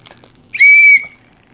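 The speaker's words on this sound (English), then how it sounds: "So you got a safety whistle." A single short, loud blast from a safety whistle from a survival kit, a shrill steady tone lasting under half a second, alone against quiet background.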